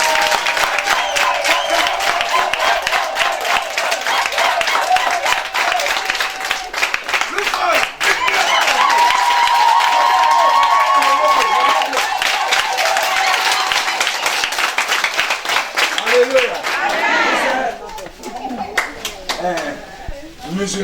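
A large crowd at a rally claps steadily and cheers for about twenty seconds, loud and close, thinning toward the end, with a voice speaking over the applause.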